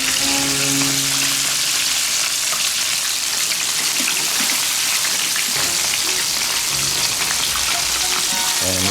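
Bacon-wrapped breaded jalapenos fry in a pan with a loud, dense, continuous sizzle and crackle like heavy rain, steady throughout, with faint tonal hums underneath.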